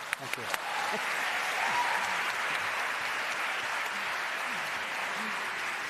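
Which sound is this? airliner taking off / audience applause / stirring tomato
audience applause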